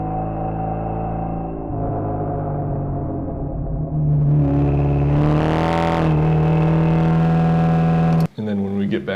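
A car's exhaust engine note, processed to sound distant as if heard from a drone, hums and rises steadily, swelling briefly before an abrupt cut to a closer sound.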